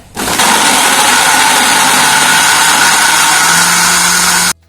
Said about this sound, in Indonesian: Kemudian, blender.